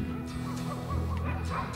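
Dogs trotting along a village road with two walkers give quick high yips and whimpering barks, several short calls layered over a constant low hum and rushing noise.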